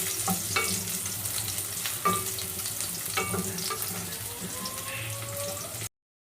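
Garlic sizzles and crackles in a hot pan for pork intestine adobo, with scraping stirs and clatters of a utensil against the pan throughout, steady and close, with no talk.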